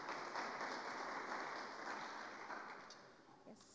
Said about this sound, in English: A better round of applause for Elizabeth.